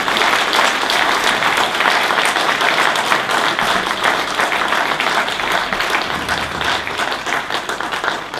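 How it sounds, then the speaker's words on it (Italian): Audience applause filling an indoor room: dense, steady clapping from many hands that carries on without a break for several seconds. "facciamo un applauso."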